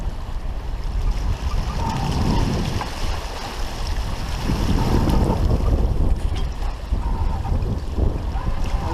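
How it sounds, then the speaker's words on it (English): Steady wind buffeting the microphone aboard a small sailboat on Lake Huron, with water sloshing against the hull and waves beneath, loud and continuous throughout. "Trying to keep the wind off my stern quarter."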